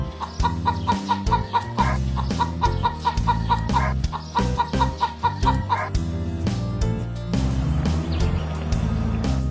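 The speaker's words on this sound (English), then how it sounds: "Hen." A hen clucks in quick, repeated bursts, close by, over a steady backing of music; the clucking trails off near the end.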